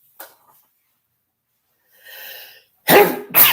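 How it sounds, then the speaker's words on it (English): A person sneezes twice in close succession, two sharp loud bursts near the microphone after a few faint breathy sounds, with no talking over them. "All right, it's official. I sneezed on camera"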